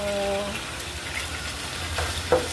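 Sweet potatoes frying in a pan, a steady soft sizzle with a faint clink near the end and a brief tonal hum at the start, no talking.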